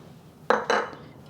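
A whisk or utensil clinks twice against a bowl of salad dressing made with avocado oil, sesame oil and sugar, two quick close metallic taps, then near quiet.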